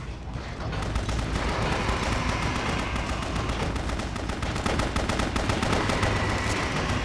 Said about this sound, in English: Shoot him with everything I got. Particularly grenades.